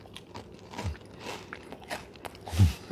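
Biting into a homemade Korean glutinous rice donut filled with red bean paste, with soft crunchy bites and moist chewing close to the mic, ending in one louder crunch.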